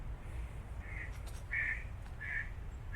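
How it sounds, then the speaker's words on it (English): Canada goose flying past outdoors by a roadside, giving about four honking calls at a moderate distance over a steady low background rumble. "You hear the goose flying by, Canadian goose."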